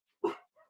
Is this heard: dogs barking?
yes